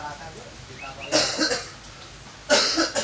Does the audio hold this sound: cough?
yes